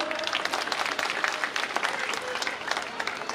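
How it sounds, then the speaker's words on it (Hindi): A crowd claps to welcome Haryana minister Moolchand Sharma at an outdoor Lok Sabha election rally in a Sector 22 market: dense, steady applause with no gaps, loud and close, mixed with some crowd voices. "एक ताली से स्वागत करिए"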